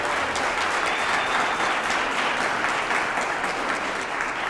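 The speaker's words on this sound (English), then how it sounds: "I want to give Dr. Hunter a big round of applause for having a special night." An audience at a Teacher of the Year ceremony claps in sustained, dense applause, moderately loud and even throughout without speech.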